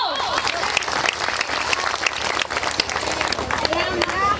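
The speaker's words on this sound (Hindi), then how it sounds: "तालियां तो बजा दो" Sustained crowd applause for a street play staged for women's day, a steady dense patter of many hands clapping close by, with voices and chatter mixed in throughout.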